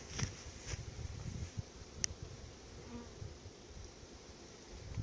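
Honeybees buzz around an outdoor hive, a steady faint hum with a few louder passes of individual bees flying close by, and no talking.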